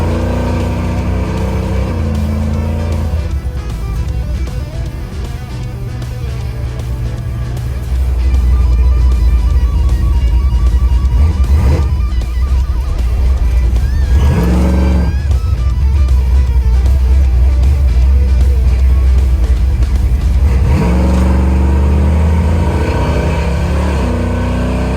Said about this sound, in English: it also had a very bad lean stumble when you go to take off from a dead stop